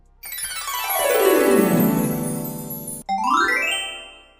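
Magic sound effect from CapCut: a loud shimmering tonal sweep that glides downward for several seconds. It breaks off briefly, then returns as a bright rising sparkle, with no voices.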